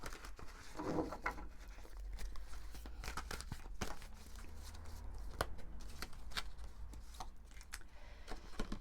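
Oracle cards are shuffled by hand in quiet, soft crisp riffles and flicks of card stock that repeat throughout at close range.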